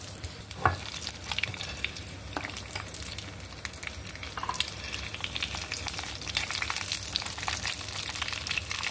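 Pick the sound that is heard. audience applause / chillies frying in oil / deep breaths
chillies frying in oil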